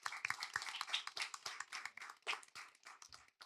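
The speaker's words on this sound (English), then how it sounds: "Please give our timekeeper a round of applause." A small audience at an evening school debate claps for the official timekeeper, a brief burst of fairly quiet, uneven handclaps without talk.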